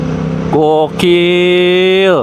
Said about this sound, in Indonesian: Gila ganteng banget suaranya. Kayak laki banget loh gitu suaranya si CF Moto.